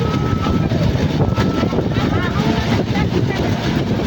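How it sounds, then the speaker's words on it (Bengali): Light wind rushes over a microphone outdoors as darkness falls and rain threatens, a loud continuous buffeting roar that fills the whole stretch, with a voice faintly beneath it. "হালকা পাতলা হাওয়া আছে"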